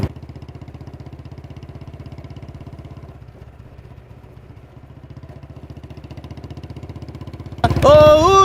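A motorcycle engine idles with a steady, rapid low thumping that dips briefly midway, then a sudden loud burst of other sound breaks in near the end.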